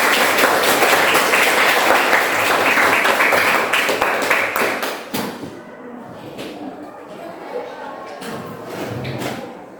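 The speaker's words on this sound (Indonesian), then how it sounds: "Tepuk tangan untuk kita." Students in a classroom break into loud applause for about five seconds, then the clapping fades into scattered taps, knocks and room noise.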